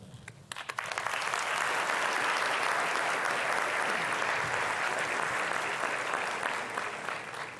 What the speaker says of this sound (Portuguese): Agradeço os aplausos